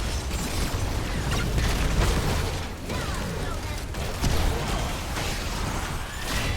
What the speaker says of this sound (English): Out comes Diva's exploding mech